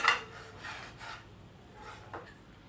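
Butter spread around the inside of a cake mould makes soft, close rubbing and scraping strokes, a few brief swishes with a light clink near the start, quiet and with no talking.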